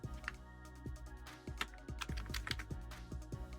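Fingers tap out a password on a computer keyboard in a quick, uneven run of close, crisp keystrokes with brief pauses between bursts, and no voice over them.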